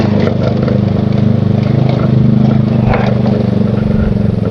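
A manual-gear motorcycle carrying two riders heads downhill on an asphalt road, its engine droning loud and close with a steady, throbbing low hum and constant wind rush.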